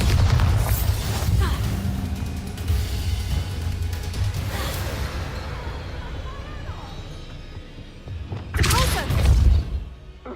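A Bombarda spell exploding in Hogwarts Legacy, a loud booming blast late on after a stretch of rumbling game noise and a couple of earlier thuds, with a voice speaking at times.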